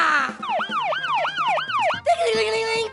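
An ambulance siren sound effect wails in a loud, steady rising-and-falling cycle for about two seconds, then cuts to a brighter, sustained electronic tone, with no talking over it.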